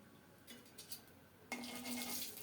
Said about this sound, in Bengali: সরিষার তেল দিলাম অল্প করেই কালো জিরা ফোড়নে দিচ্ছি